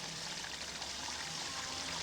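Water from a pump spilling down a small garden railroad waterfall, a steady close splashing trickle that runs on unbroken and fairly loud.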